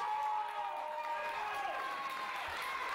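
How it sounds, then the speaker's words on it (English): A wrestling crowd at a women's match cheers and roars for Sandra Moone, a steady wash of voices with a commentator talking over it. "And the crowd roaring for Sandra Moone."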